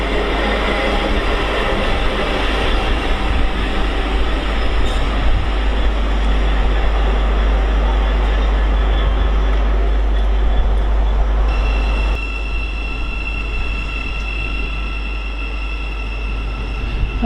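A Class 66 diesel locomotive, number 66 721, rumbles past at close range on the East Coast Main Line, steady heavy engine drone and rail noise throughout, easing slightly near the end with a thin metallic squeal.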